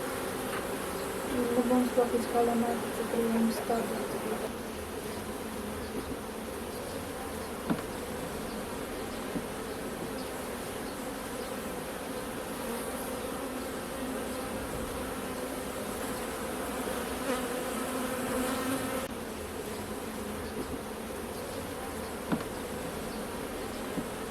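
Honeybees buzz steadily and at close range around an open hive during an inspection of brood frames while nucleus colonies are being made, a continuous hum with a few faint knocks and no talk.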